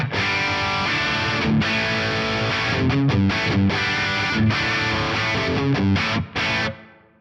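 An electric guitar played through an Axe-Fx III on the Cameron CCV amp model rings out with heavy distorted chords and short rhythmic stops, loud and up front, ending abruptly, no voices.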